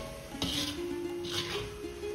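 A spoon works through a thick coconut and cardamom burfi mixture in a pan, with two or three soft scraping strokes over a faint steady sizzle.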